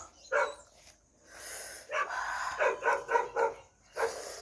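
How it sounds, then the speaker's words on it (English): Dog barking nearby indoors, several sharp barks and yips in an irregular burst with short pauses between them, loud and close with no talking. "ignore that dog. That dog is annoying."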